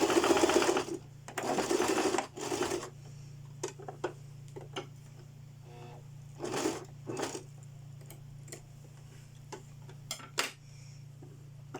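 A sewing machine stitches a seam on a French-cut bodice, running in several loud bursts with short clicky pauses between them and faint ticking handling sounds, with no talking.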